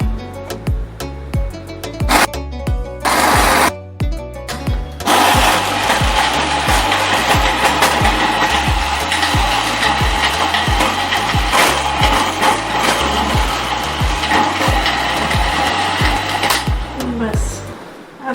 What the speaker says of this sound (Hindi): ब्लेंडर कर लीजिए, हल्का सा।